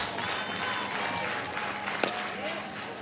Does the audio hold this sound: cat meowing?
no